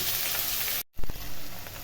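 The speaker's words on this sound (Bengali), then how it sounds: "তো এটা আমি ভালো করে ভেজে নিচ্ছি।" Chopped onion and tomato frying in a little oil, a loud close sizzle broken by a brief silent cut, then resuming with a clatter of stirring.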